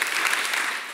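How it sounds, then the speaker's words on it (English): A church congregation claps together during a Simon Says game in a Sunday morning service, heard as a short, dense burst of many hands clapping at once, close and fairly loud, with no voices. "Simon Says, clap twice."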